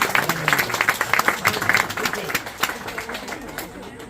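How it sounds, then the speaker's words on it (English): Audience applause at Lone Pine Zoo after a sheep-herding dog show, brisk clapping from a crowd outdoors with bursts of cheering and chatter mixed in, fading slightly toward the end. "Give me a big round of applause, guys"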